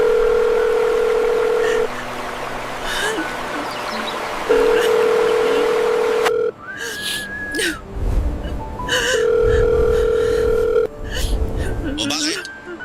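A telephone ringback tone plays while someone calls in a Tagalog drama. Steady, loud tone bursts repeat with pauses between them, and a voice speaks in the gaps.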